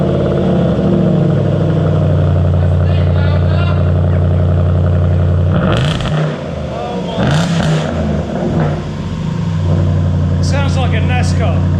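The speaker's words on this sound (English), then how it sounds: "Oh, we got a little backfire." A loud, raspy straight-piped exhaust on a 500bhp Jaguar XFR drones and revs up close, with sharp backfire popping bursts, and voices talking over it partway through.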